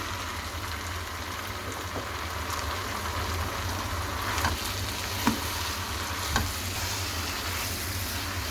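Hakka noodles are stirred and fried in a hot wok, giving a steady close sizzle with a few sharp utensil clicks over a low background rumble, and no one speaks.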